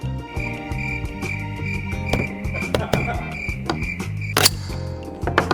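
An LCT SVDS airsoft AEG bolt released, producing a series of sharp mechanical clicks and snaps over a steady whine, close and fairly loud, with no speech.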